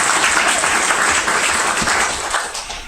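Dense, steady applause from a full audience at a town commissioners' meeting, loud and close, holding even for about three seconds before tapering slightly.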